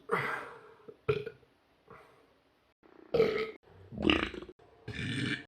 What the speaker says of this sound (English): well, if I burp this on a good bit